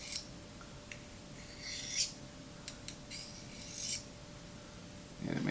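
A blade is drawn across a small carbide-tip pocket sharpener, giving faint, brief scraping rasps spaced a second or so apart over a quiet background.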